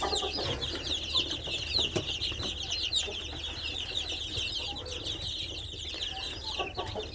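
Young chicks about ten days old in a brooder warmed by heat lamps, giving a steady dense mass of high peeping and chirping throughout, close by, with a low background rumble.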